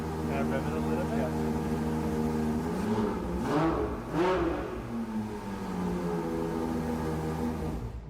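A Ferrari 812 Competizione's front-engine V12 blipped twice in quick succession, its pitch soaring and dropping back over a steady, loud idle close by.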